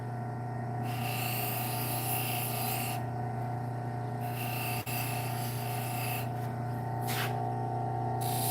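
A knife blade is drawn across a sharpening surface to clear the burr, giving close, steady scraping passes with a few short breaks and a brief tick partway through.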